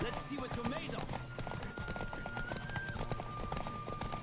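Horse hooves clip-clop in the Witcher 3: Wild Hunt video game, a steady quiet rhythm of hoof beats with a brief whinny at the start and faint game ambience underneath.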